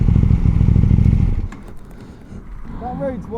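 A KTM 890 R motorcycle on a good road, its engine loud and rumbling for about a second and a half before dropping to a lower, rougher running sound. A voice talks over the later part.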